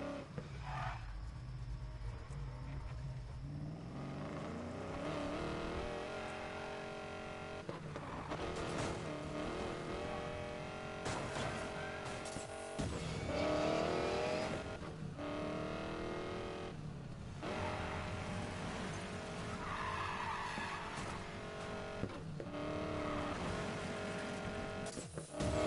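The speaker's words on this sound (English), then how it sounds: "If that body doesn't turn heads, the growl of a V8 definitely will." A 1965 Mustang V8 driven hard in Need for Speed Payback, its loud engine note rising and falling through repeated gear changes and surges, with a brief tire squeal, close and continuous throughout.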